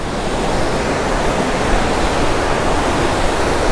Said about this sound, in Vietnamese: Suối này là suối lớn luôn á.